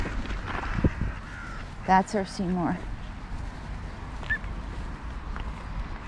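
Gulls call from a flock as a banded gull chases the others being fed treats; a few harsh, clustered cries stand out over steady background noise while a person talks nearby.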